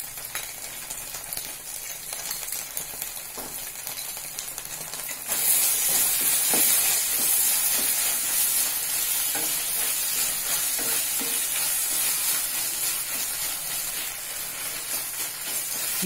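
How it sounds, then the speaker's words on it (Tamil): Egg and capsicum sauté in a hot pan, a steady sizzle with scraping stirring throughout that grows louder and brighter midway, with no talking. "எல்லாம் சேர்த்து ஒரு மூணு நிமிஷம் வதங்கட்டும்."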